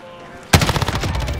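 Rapid automatic fire from an M13 rifle in a first-person shooter, aimed through a wall. A loud burst starts abruptly after brief quiet and keeps hammering in a dense, fast string of shots.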